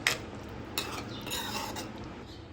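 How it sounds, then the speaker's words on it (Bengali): Spoon stirring powdered shahi garam masala into the gravy of a jackfruit kofta curry in a pot, a few soft scraping and clinking strokes close by with a light wet swish. "দিয়ে সমস্ত ঝোলের সাথে ভালোভাবে মিশিয়ে নিচ্ছি।"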